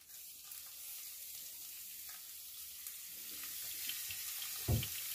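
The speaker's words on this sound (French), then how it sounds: "je vais commencer la cuisson du steak haché" A beef burger patty starts frying flat-side down in a pan, a soft steady sizzle rising gradually, quiet and close, with a brief clatter near the end.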